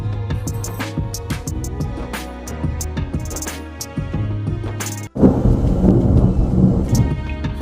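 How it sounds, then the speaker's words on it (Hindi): Thunder rumbles loudly overhead with rain, a deep rolling roar that breaks off briefly before a heavier, denser crash of storm noise returns close by. "साथ में बादल की गरजने की बहुत ज्यादा आवाज आ रही भाई"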